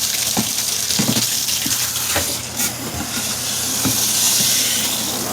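Tap water gushes steadily into a portable washing machine tub for a rinse, a continuous hissing rush with a few faint knocks underneath.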